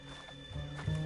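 Horse hooves in the video game Red Dead Redemption 2: a few soft, muffled thuds over a steady game ambience with sustained tones, growing slightly louder toward the end of the short moment.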